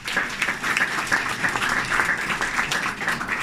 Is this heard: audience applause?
yes